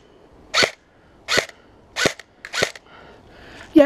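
A G&G Raider airsoft gun fires BBs in four sharp, loud, close shots spaced well apart, followed by a faint stir of movement and a burst of noise at the end.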